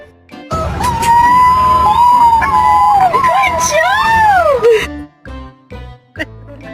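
A small dog carrying a big stick lets out a loud, sustained howl with a rising and falling pitch, close by, followed by a few shorter sounds after it breaks off.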